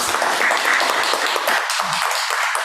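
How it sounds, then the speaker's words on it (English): An audience claps steadily through a lecture-hall round of applause for a guest speaker and panelists after a talk on dark matter, dense and sustained from start to finish. "let's have a round of applause for our speaker and our panelists"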